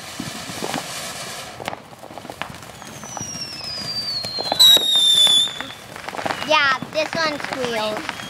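A Starburst Fountain firework at a Fourth of July backyard show lets out a high whistling squeal that slides down in pitch, along with crackling and fizzing bursts. Voices talk faintly in the background.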